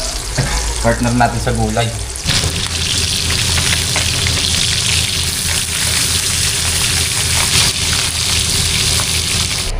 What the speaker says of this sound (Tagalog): Ngayon naman po magprito tayo ng galunggong.